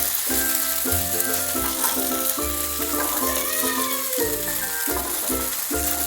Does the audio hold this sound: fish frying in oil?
yes